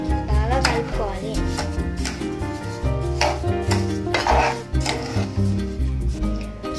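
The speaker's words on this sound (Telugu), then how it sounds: "కలుపుకోవాలి, బాగా కలుపుకోవాలి." Pineapple pieces, sugar and water are stirred in a metal pot with a spoon. It makes repeated scraping and clinking strokes close by, with faint cooking sizzle and a voice talking over it.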